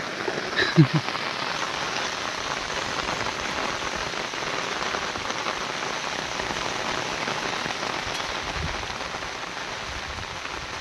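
Steady rain falls outdoors, hissing evenly on surfaces for the whole stretch, with a few brief knocks near the start.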